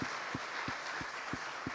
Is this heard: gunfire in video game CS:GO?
no